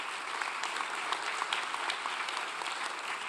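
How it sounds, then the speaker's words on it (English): A conference audience at a National Governors Association summer meeting claps for a visiting Mexican delegation, steady, even applause filling the room throughout with no voices over it. "Round of applause for the entire Mexican delegation who have joined us here today."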